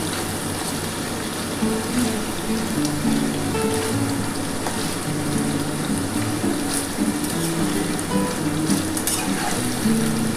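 Paneer cubes frying in oil in a pan, a steady hissing sizzle with bubbling that swells slightly after the first seconds and holds on evenly, no voices present.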